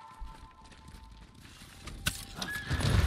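A horse neighs and whinnies with clip-clop hooves in the Ghost of Tsushima video game, the whinny building toward the end over quiet game ambience.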